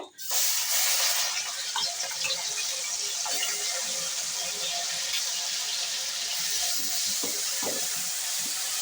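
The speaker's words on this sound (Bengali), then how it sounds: "আমি একটা পেঁয়াজ বেটে রেখেছিলাম, পেঁয়াজটা দেবো।" Ground onion paste dropped into hot oil with bay leaf, a loud sudden hiss at the start settling into a continuous bright sizzle, with small crackles and pops throughout.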